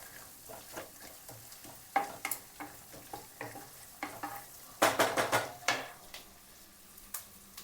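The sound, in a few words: curry leaves added to hot oil, sizzling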